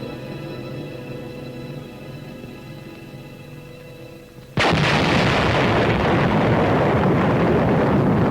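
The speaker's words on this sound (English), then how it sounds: "Within 30 seconds will come the thunderous roar of the explosion 7 miles away." Atomic bomb airburst heard from seven miles away: after a low, quiet hum, a sudden massive roar bursts in and holds as a loud, continuous rumbling wall of sound.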